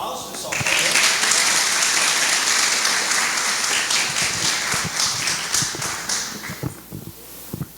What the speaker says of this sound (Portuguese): Todos aplausos, pessoal.